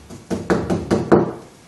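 A brush knocks four times in a steady rhythm on the wet margin of rice paper while a Chinese brush painting is being mounted, each tap a close, dull thud.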